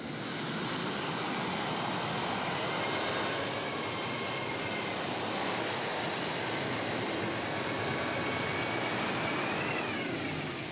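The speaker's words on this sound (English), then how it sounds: "3 turbine engines is what's on this one" A loud, sustained turbine roar with a high whine from a super modified pulling tractor with three turbine engines, steady and close for the whole stretch, no voices.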